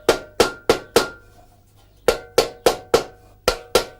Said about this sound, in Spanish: Todo a golpes con el martillo, con este martillo.